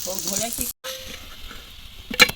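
Steady sizzle of soya chunks frying in a little oil in a pan, with some stirring scrapes, a brief silent cut in the middle, and a sharper clatter near the end.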